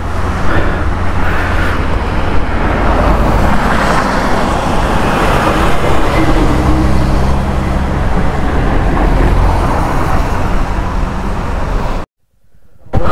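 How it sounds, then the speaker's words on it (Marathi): Heavy road traffic during a jam on a highway near a petrol pump, a dense, continuous roar of engines and tyres that stays loud and steady, then cuts out abruptly near the end. "ॲक्च्युली सर्व ठिकाणी ट्रॅफिक जाम झालेलं आहे"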